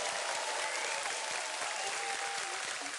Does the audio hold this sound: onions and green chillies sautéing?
no